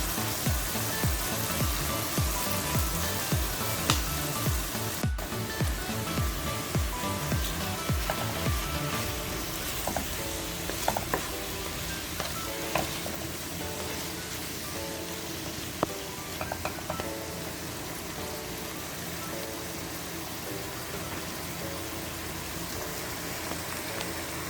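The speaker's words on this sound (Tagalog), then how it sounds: "I'd fry 14 minutes until brown all over, then transfer the beef into the soup pot" Beef chunks seasoned with salt, pepper and pepper flakes fry in a soup pot for stew, giving a loud, steady sizzle with crackling pops and occasional stirring scrapes throughout, no voices.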